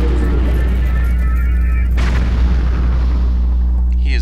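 A boss in Super Mario Galaxy 2 fires projectiles from its mouth, a sharp booming burst sounding midway through the game's continuous low music and hum.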